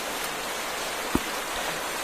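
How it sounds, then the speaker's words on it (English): Steady rain hiss in modded Minecraft, an even wash of falling water across the whole stretch with one brief soft thump partway through. "Still bloody raining."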